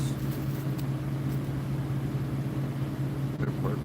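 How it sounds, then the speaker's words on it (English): Refrigerated trucks parked across the street from a turkey slaughterhouse give off a steady, low droning hum from their cooling units, constant and unbroken throughout. "I hear the refrigerated trucks."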